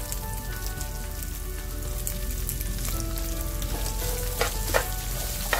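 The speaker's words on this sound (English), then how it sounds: "Now give it a quick stir, make sure that it's coated with all of the powders" Okra coated in turmeric, chili and cumin powder sizzles in a hot pan while being stirred, a dense, steady frying hiss with a few sharper clicks and scrapes near the end.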